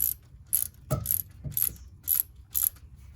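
A hand ratchet with a long deep 14 mm socket works an alternator bolt on a 2008 Hyundai Veracruz V6, giving six crisp, evenly spaced bursts of clicking with a dull knock or two between strokes, close and clear.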